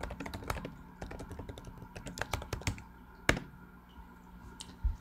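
Steady, rapid typing on a nearby computer keyboard, with a busy run of key clicks and a few sharper, louder taps standing out. No one speaks.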